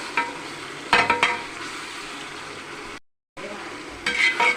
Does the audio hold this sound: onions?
yes